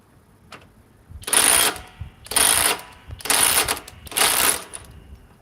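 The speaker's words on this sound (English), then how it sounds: "the new Cobalt compact impact wrench 3/8 with the 8 amp ultimate output, 150 foot-pounds" A Cobalt compact 3/8 impact wrench, set to a slower mode, removes a bolt in four short, loud bursts with brief gaps between them.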